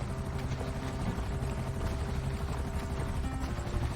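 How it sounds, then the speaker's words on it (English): Helicopters in the video game GTA Online whir steadily through the whole stretch, a dense low rotor drone with engine noise layered on top, loud and continuous with no talk over it. "Now they're just really mad helicopter pilots."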